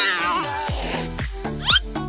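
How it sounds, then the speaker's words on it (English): Cartoon cats in the Avatar World video game meow and yowl at each other, several rising and falling cries in quick succession, clear and close, with a few short synthetic swoops between them. "now these cats will start fighting"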